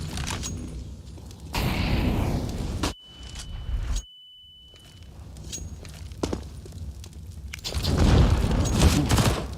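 A grenade blast and gunfire during a professional Counter-Strike match, with sharp shots and a heavy boom, a brief drop to near silence, then renewed loud bursts of fire and movement. No voices.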